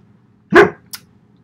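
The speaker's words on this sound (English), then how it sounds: "Sorry, that's my dog. He's always angry." A single loud, close bark from a dog, short and sharp, followed by a faint brief yip, with a quiet room otherwise.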